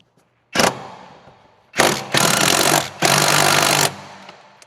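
Three loud, rattling bursts from a power tool work a sway bar link nut on a Honda CR-V. A short first burst is followed by two longer ones, with brief pauses between them and no talk.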